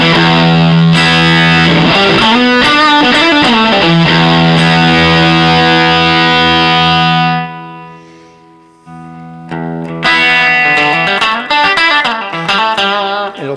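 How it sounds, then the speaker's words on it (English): A Newport Player guitar HHT runs through a Tube Screamer into a push amp, giving loud, thick overdriven chords and bends that ring out, briefly fade, then return. "So I'll put on a tube screamer, so it's going to be a lot more distortion here."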